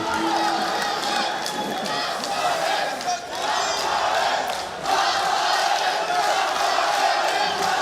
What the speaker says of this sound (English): I can't quite make out what the crowd are chanting, but they're getting into it.